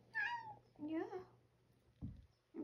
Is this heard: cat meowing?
yes